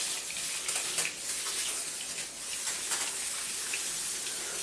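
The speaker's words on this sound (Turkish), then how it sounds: "Şöyle hemen biraz da yağ sıkalım." Oil sprayed onto eggplant slices on a baking tray makes a soft, steady hiss with a few faint pumps, close and moderately quiet for a few seconds.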